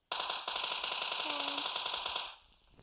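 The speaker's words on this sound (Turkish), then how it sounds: "Can abi baya mermi alıyor bu ya Thompson. 30 mermi" Thompson submachine gun in the mobile game PUBG Mobile rattles off a sustained, loud automatic burst of rapid evenly spaced shots lasting about two seconds, then cuts off.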